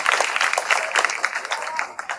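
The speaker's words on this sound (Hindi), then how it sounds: "वेरी गुड, तालियां।" Children at a school session clap together in a dense, lively patter that runs the whole short moment, with a little background chatter mixed in.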